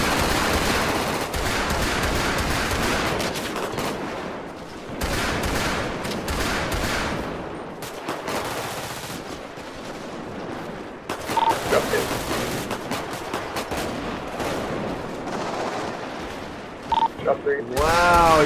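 Rapid bursts of automatic gunfire crackle through a shooter video game firefight, volleys coming in clusters with brief lulls, mixed with players talking excitedly over the shots.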